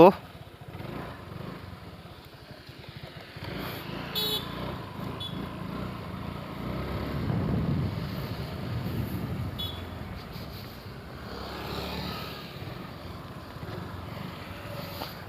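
A motorcycle engine revs with a steady, rough drone that swells and eases over several seconds, mid-distance, with people talking over it.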